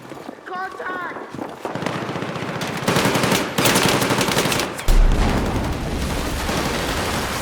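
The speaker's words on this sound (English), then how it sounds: "Taking heavy fire!" Loud, dense automatic gunfire from a Battlefield 6 combat firefight, sustained bursts with sharper impacts and a heavy thud near the middle, and faint shouted voices within the din.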